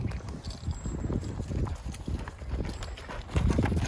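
Hooves of a horse loping in circles around its trainer during a groundwork session, a steady drumming of footfalls on soft ground, moderately close, growing a little louder toward the end.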